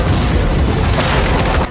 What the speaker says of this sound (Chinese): 随着马车炸裂，白发仙却毫发无伤